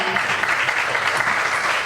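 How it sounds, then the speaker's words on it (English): A crowd claps steadily for a couple of seconds, a dense wash of applause with a few faint voices mixed in. "a round of applause to Mr. Mahesh Kadam."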